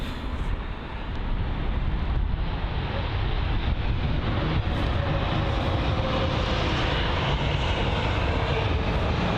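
A British Airways Boeing 777-200 airliner at London Heathrow, its engines giving a steady, loud, broadband roar that holds evenly throughout with no voices.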